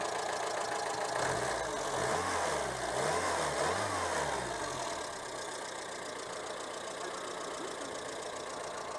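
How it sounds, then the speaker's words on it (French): The engine of a Renault 11 GTL revs up and back down a few times with a rising and falling mid-pitched roar, then settles into a steadier running hum. "Tiens, je regarde si on peut accélérer."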